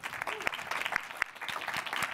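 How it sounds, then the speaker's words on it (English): Audience applause at an SXSW 2022 panel on entrepreneurs' mental health, a steady crowd clapping with a few sharper close claps standing out across the whole stretch. "So let's give them a round of applause."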